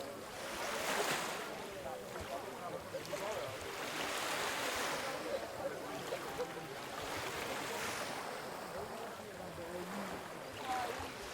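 Ocean waves wash steadily along the coast at St. Augustine, Florida, a soft continuous surf with gentle swells and some wind noise, no talking.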